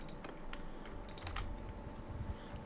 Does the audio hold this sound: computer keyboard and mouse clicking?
yes